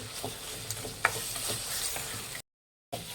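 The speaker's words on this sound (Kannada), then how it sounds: "ಎಣ್ಣೆಲಿ ಒಂದು ಸ್ವಲ್ಪ ಫ್ರೈ ಆಗಬೇಕು ಮಸಾಲೆ" Ground masala paste of mint, coriander, ginger and spices frying in oil: a soft, steady sizzle with light stirring scrapes, then a sudden half-second of silence before the hiss returns.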